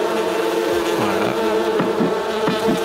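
Bees at a two-storey beehive in the farming game Farming Simulator 19 make a loud, dense, continuous buzz with wavering tones, close up and steady throughout with no talking.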